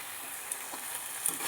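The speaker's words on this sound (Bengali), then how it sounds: "কষানো আমার প্রায় হয়ে গেছে" Pre-boiled meat and fried potatoes sizzle while being sautéed in a pan, a soft steady frying hiss with a few light stirring clicks near the end.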